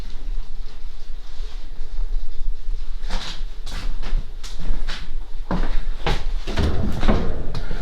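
A refrigerator door on hinges is opened and shut several times, giving a series of close, sharp thuds and knocks over a low background hum.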